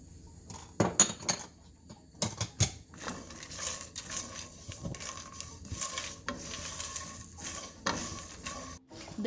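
Dry-roasting red chili and sesame seeds in a pan, with steady scraping stirs, light rattling of seeds against metal and a faint crackle, close and moderately quiet.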